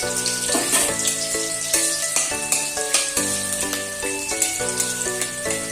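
Steady sizzling of chopped garlic and chili frying in hot oil, close by, with a few stirring scrapes and music playing throughout.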